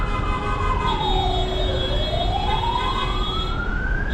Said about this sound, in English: still hear more ambulances.